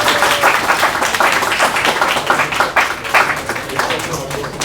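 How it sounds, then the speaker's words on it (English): Audience at a talk on commercial AR and VR technology gives a round of applause, loud close clapping in irregular bursts with a few voices under it. "A round of applause for Ronnie,"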